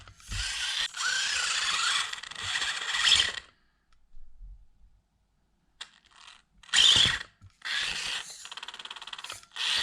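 Small SCX24 RC crawler with brushed motors straining uphill, a whiny electric motor buzz in bursts with pauses and quiet gaps between attempts, close and fairly loud.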